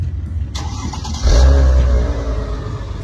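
A warm Chrysler Crossfire 3.2-litre V6 starts with a brief starter whirr, then catches and revs loudly before settling into a strong idle, heard up close with no talking.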